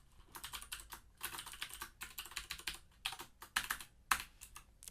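Steady, fairly quiet clatter of computer keyboard keys as VBA code is typed, in irregular bursts of quick keystrokes with short pauses between them, close up and alone.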